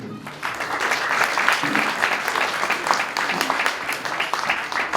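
Congregation at a Christmas service in a prayer hall in Faridpur, Jalandhar clapping together: dense, steady applause held at full strength throughout.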